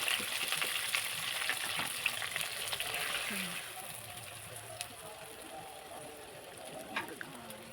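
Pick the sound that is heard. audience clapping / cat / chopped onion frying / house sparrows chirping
chopped onion frying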